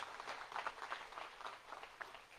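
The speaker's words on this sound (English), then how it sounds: "she deserves the applause" Audience applause at a graduation commencement ceremony: faint, scattered clapping from a crowd heard at a distance, steady for a couple of seconds.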